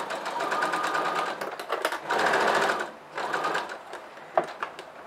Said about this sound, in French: Je couds à 1 cm à l'intérieur de ma ligne.